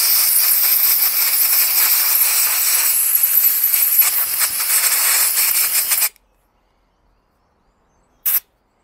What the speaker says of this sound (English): compressed air is amazing